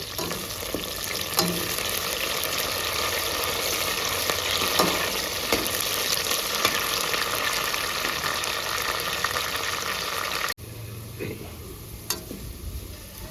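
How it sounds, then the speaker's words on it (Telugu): Onions and coriander leaves frying in a pan for chicken pulao, a long steady sizzle with occasional stirring scrapes that drops to a softer crackle near the end, no speech. "ఇవన్నీ బాగా ఫ్రై చేసుకోవాలి"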